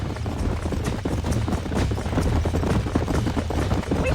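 Rapid clip-clop of several horses' hooves from the video game Red Dead Redemption, a dense, steady drumming of hoofbeats close by throughout, with no voices.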